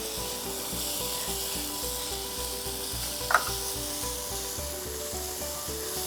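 A Kathiyawadi bharta of roasted eggplant with green garlic and coriander sizzles in a pan, with steady frying and a rhythmic scrape of stirring repeating about twice a second, plus one brief clink midway.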